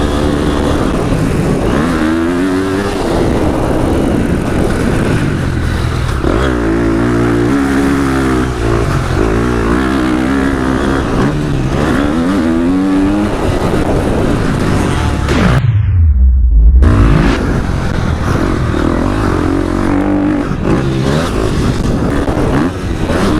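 A 250 FC motocross bike rides a dirt track, its engine revving up and down continuously and loud, with one sharp deep drop as the throttle shuts off before it pulls hard again.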